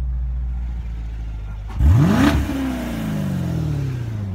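A 2016 Corvette Z51 Stingray 3LT with performance exhaust in track mode fires and revs once sharply nearby, the engine note climbing fast then settling into a steady idle rumble.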